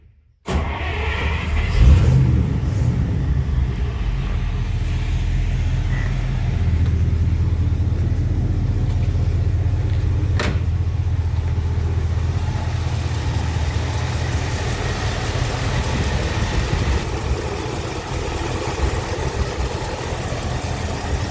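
A 1953 Oldsmobile Super 88 engine runs steadily at idle, a loud, close, continuous low rumble that starts abruptly and holds for about twenty seconds with no talking.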